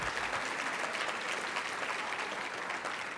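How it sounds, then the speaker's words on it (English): A conference audience gives a hearty round of applause, dense and even clapping filling the room for a few seconds. "Huge round of applause for him."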